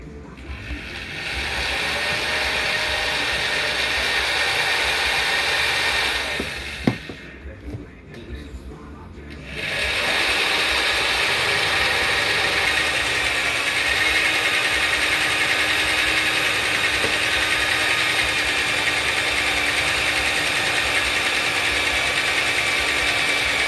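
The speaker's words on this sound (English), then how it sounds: "I got my 7/16 hole drilled." Power drill boring a 7/16 hole through a motorcycle rim during a tubeless liner install, a loud continuous whining grind that pauses briefly midway with a clack before resuming steadily to the end.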